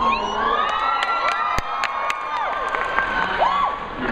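An audience at a Sherlock convention panel in San Diego cheers loudly and continuously, a dense crowd roar with high shouts and whoops.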